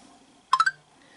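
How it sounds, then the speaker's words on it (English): A mobile phone gives a quick burst of three bright electronic beeps in close succession, sharp and fairly loud against a quiet room, with nothing else sounding around it. "That's my phone."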